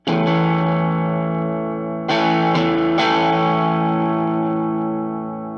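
Sustained electric guitar chords through an amp just on the edge of breakup with slight grit, rung out, then struck again twice and left to ring and fade slowly.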